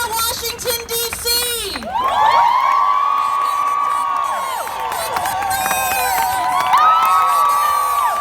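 A large outdoor crowd at a Women's March in Santa Barbara cheers, whoops and screams loudly and continuously, with high shouts rising above the roar.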